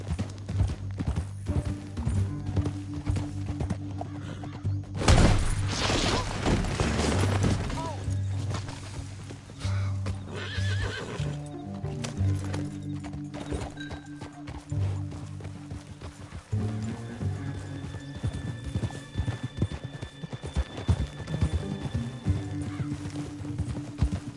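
Video game hoofbeats clop steadily under a musical score and spoken dialogue, with a horse whinnying briefly partway through, in Red Dead Redemption.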